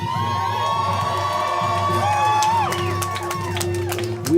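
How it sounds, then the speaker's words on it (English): A crowd at an outdoor rally for higher education cheers and whoops in a steady, fairly loud wash, with a few shrill whistle-like cries rising above it and no talk on top. "Let's give him another round of applause."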